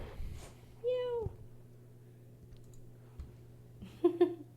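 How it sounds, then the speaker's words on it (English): A cat gives a single drawn-out meow, clear and close, with a short chirp-like sound near the end and faint background noise between. "He would just meow right now."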